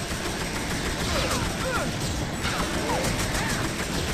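Rapid gunfire from a Soviet rifle aimed at an enemy's jetpack in the TimeSplitters Future Perfect video game, a continuous crackling stream of shots under busy game noise.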